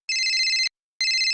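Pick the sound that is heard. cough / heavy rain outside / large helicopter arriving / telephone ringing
telephone ringing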